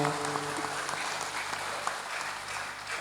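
Continuous audience applause at a commemorative religious gathering, dense and even, with a faint voice or tone under the first second.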